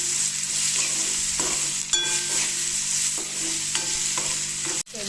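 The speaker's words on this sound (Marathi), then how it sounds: "बघा आता मी कांदा टाकला आणि कांदा आणि बोंबील परत पुन्हा एकत्र करून घ्यायचे." Onion and bombil (Bombay duck) sizzle in a pan while a spatula scrapes and stirs them in several distinct strokes, with a sharp clank near the end, close and loud.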